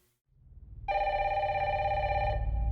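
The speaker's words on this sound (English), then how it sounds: "We had the phone ringing." A telephone ringing in a Resident Evil Requiem horror game trailer, heard as one loud, sustained electronic ring that rises over a low rumble and then fades, with no talking.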